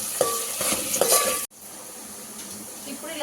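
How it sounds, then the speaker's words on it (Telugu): Onions frying in oil until golden brown for Karnataka-style chicken donne biryani, a steady close sizzle with stirring and utensil scrapes, broken by a brief cut partway before the frying hiss continues more softly. "ఉల్లిపాయ కూడా గోల్డెన్ బ్రౌన్గా ఫ్రై అయిపోయిందండి"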